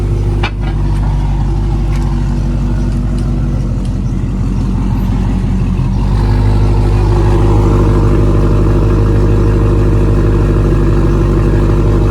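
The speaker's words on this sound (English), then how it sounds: "I just want to show you how the car sounded for now." A cheap, side-damaged Dodge Charger SRT8 V8 runs at close range with a deep, steady idle rumble. Its pitch and tone shift about halfway through and then settle into a slightly higher, even drone. No one speaks.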